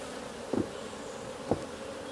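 Honey bees hum steadily around an open hive during a summer inspection, a dense continuous drone with two brief louder thumps, no voices.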